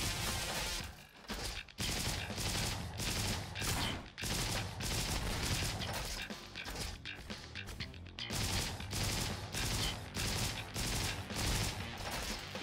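Sustained gunfire in the shooter game Roboquest, a steady rapid stream of evenly spaced shots across the whole stretch, loud and close, with game effects layered in and no talk.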